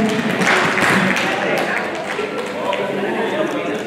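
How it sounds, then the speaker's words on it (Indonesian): An audience at a university outreach session claps for a lecturer, a dense, lively round of applause that holds steady at close range, with voices mixed in beneath it. "Boleh dong tepuk tangannya untuk Ibu dosen."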